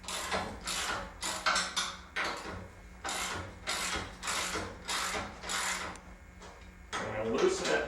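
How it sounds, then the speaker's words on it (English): Large sheet metal screws being loosened on a studio frame give a run of ratcheting, mechanical clicks in repeated bursts, close and moderately loud, with brief pauses between turns. "there are 3 large sheet metal screws that actually hold the 2 frames together. So we're going to loosen those."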